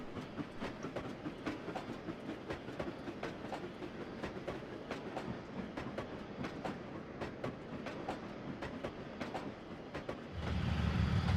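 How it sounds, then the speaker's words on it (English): A steam train rolls steadily along the rails with a regular clickety-clack rhythm, moderately loud, joined by a low rumble near the end. "another engine took his train towards the mainland"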